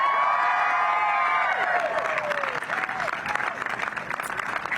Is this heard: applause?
yes